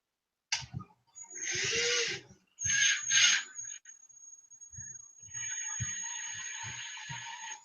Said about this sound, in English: Homemade Dremel.